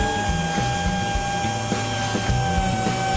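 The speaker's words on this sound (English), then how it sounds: "they are grinding all the edges of the garment" A loud, continuous mechanical grinding drones with a steady whine and stuttering low rumbles, as abrasive tools grind the edges of denim garments in a noisy factory.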